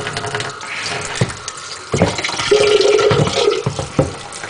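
Hot water runs from a tap into a sink in a steady close gush, broken by a few clunks and knocks as things are handled beneath it.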